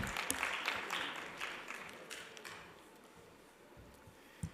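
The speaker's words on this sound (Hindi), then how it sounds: "एक बार जोरदार तालियां पवन अरोड़ा सर के लिए" An audience at an education summit applauds a speaker, clapping that starts fairly loud and gradually thins and fades over a few seconds, heard at moderate distance.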